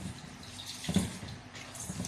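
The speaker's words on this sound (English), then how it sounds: "So I'm just going to put in the water into the rice, and I'm going to wash it a bit" Rice being washed by hand in water, with soft sloshing and swishing that stays fairly quiet and steady, plus a small splash near the middle.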